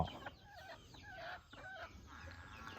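Free-range laying hens and fighting-breed chickens in a coop fenced with netting cluck and squawk continuously, several birds overlapping at close to middle distance with no talk.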